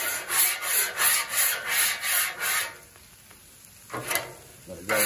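A metal scraper rasps grease across a cold steel Blackstone griddle in several loud back-and-forth strokes, then pauses before a couple of short final scrapes, with no talking.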